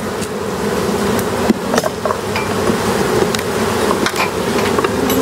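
Honey bees buzz on hive frames, a dense continuous drone with scattered clicks and knocks of handling over it, steady and close throughout with no talk.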